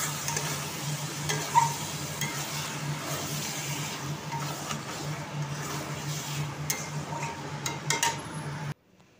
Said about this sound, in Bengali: ব্যাস এবার এটাকে ভালো করে নেড়ে চেড়ে রেখে নামিয়ে নেব